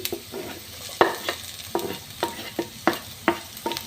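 Ginger, garlic and green chili are stirred in a hot pan, with a rhythmic series of about a dozen spatula scrapes over a soft continuous sizzle, close and clear, no voices.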